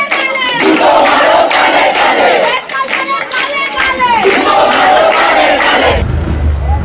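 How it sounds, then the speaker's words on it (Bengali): Junior doctors at Bardhaman Medical College Hospital chant protest slogans in unison, a loud, close, rhythmic crowd roar that carries on without a break before trailing off. "জুনিয়র ডাক্তাররা থ্রেড কালচার বন্ধের দাবি তুলে বর্ধমান মেডিকেল কলেজ হাসপাতালে দীর্ঘক্ষণ স্লোগান দেয়"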